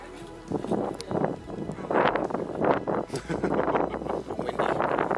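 Gusty wind on a Pacaya Volcano hike in Guatemala buffets the microphone in loud, uneven bursts that rise and fall over several seconds.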